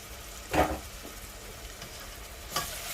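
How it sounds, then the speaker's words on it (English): Onions and garlic are stirred in a pot for pasta fagioli, with two distinct scraping stir strokes over a quiet, steady sizzle; close and moderately loud. "Give that a stir."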